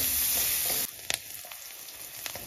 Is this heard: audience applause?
no